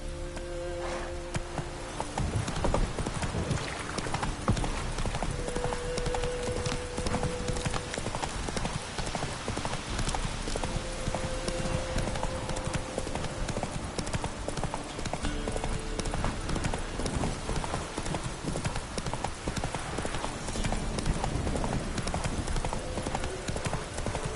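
Roach, a horse in The Witcher 3, gallops in a steady, rapid clip-clop of hooves over a continuous game ambience, loud and close, with a brief tone heard now and then.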